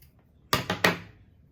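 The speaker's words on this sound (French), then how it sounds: "je vais reprendre ces ciseaux" Scissors snip thread ends during sewing: two sharp, close cuts in quick succession, quiet and alone.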